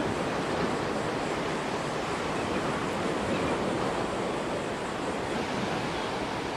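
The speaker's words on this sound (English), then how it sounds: "The tide comes up again." Tide rolling in on the Gulf shore at Grand Isle, Louisiana, waves washing up in a constant broad rush of surf with no breaks, fairly faint and steady, no voices.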